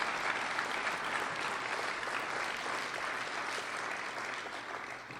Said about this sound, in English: You were very generous with your clapping.